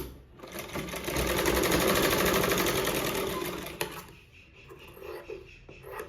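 A sewing machine runs close by in one steady, rapid stitching burst along the edge of a sleeve piece, slowing and stopping after a few seconds, followed by a short mechanical clack and quieter handling.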